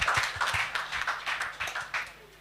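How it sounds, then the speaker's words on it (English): Applause at a cannabis symposium, a small group clapping in uneven bursts that fade out over a couple of seconds, with murmuring voices mixed in. "Let's give them a big round of applause"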